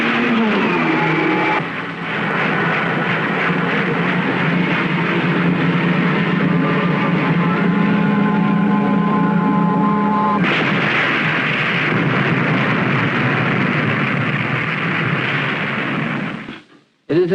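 Torpedoes firing aboard the Nautilus nuclear submarine: a loud, sustained roaring rush with a deep hum and a tonal whine, shifting abruptly partway through, then cutting off near the end.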